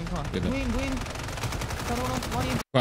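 Rapid automatic gunfire from the video game Warzone rattles almost continuously under a layer of overlapping speech, with a brief silent dropout near the end.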